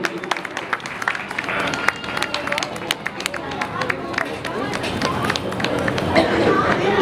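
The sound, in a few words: audience applause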